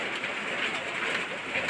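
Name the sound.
heavy rain falling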